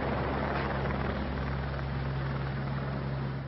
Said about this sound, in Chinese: 两架直升机、